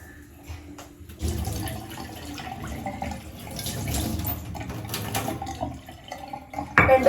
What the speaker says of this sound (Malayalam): പക്ഷെ കുറച്ച് വെള്ളം ഒഴിക്കാം കേട്ടാ